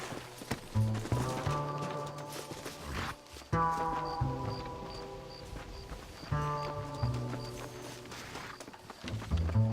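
Horse hooves clip-clop in the Red Dead Redemption video game, steady and rhythmic, mixed with game music and ambient sound.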